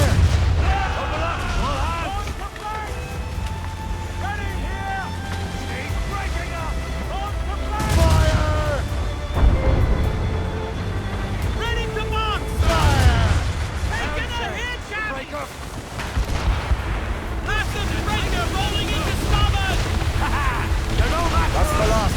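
Ship cannons fire in repeated deep booms during an Assassin's Creed Rogue naval battle, several heavy blasts rolling out over a dense mix of orchestral music and shouting voices, loud and rumbling throughout.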